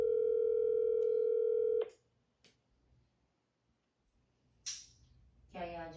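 Telephone ringback tone on an unanswered call, one steady tone lasting nearly two seconds before cutting off, followed by quiet clicks and brief rustling handling noise.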